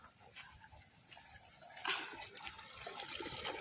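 Steady trickling water runs continuously at a low level through a green farm field, a faint outdoor flow with a slight surge partway through.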